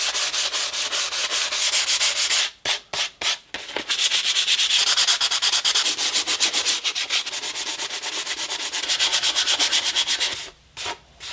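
Steady, close hand sanding of a carbon fiber engine cover on a B7 RS4 with 180 grit sandpaper: continuous loud scratchy rubbing strokes with a few short choppy breaks, no voices.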